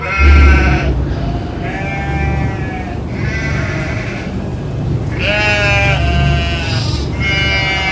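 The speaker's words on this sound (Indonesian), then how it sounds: "sambil menunggu domba-domba kita selesai minum" Sheep bleat repeatedly beside a river as they drink, several wavering calls overlapping at close range over a low background rumble.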